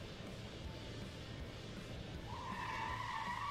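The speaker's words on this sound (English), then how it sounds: "When traveling at 200 kilometers an hour, any braking is emergency braking." A car brakes hard from 200 km/h, its tires skidding with a rising squeal that grows louder toward the end over a broad rushing roar.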